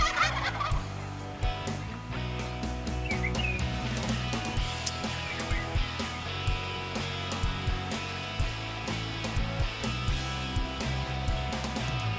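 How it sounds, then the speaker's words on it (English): Repeated gobbling from wild turkeys, bursts coming again and again from a few birds at moderate distance, with faint bird chirps mixed in. "These turkeys have been hung up behind us for over an hour."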